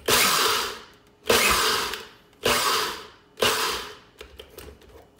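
A Nutribullet blender pulses four times while coarse grinding coffee beans, each burst a loud, harsh grinding roar that fades quickly, followed by a few clattering knocks of the container.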